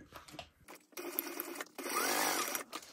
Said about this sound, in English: And then I'm going to top stitch here.